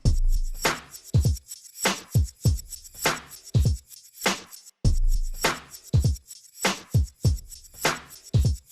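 A reversed shaker sample in Ableton Live plays in a repeating rhythm, each hit swelling up and cutting off abruptly, with deep thumps under the swells.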